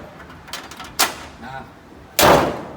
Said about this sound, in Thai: เดี๋ยวผมจะปิดฝากระโปรงก่อนนะครับ